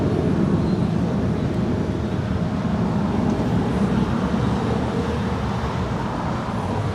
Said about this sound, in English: That is Air Canada 792 departing to Toronto.